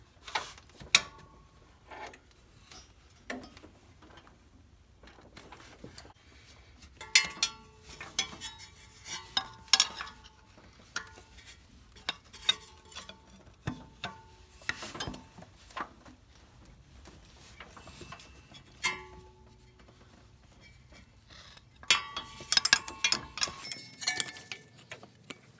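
A wrench breaks loose the fan pulley bolts on a 1992 Ford F-150, giving scattered close metallic clicks, ratcheting and clanks in uneven bursts with quiet gaps between, no voices.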